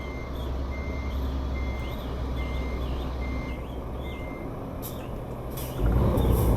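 A truck in Euro Truck Simulator 2 sounds reversing beeps, a steady series of faint, high repeated tones over a low rumbling engine and traffic drone that swells louder near the end.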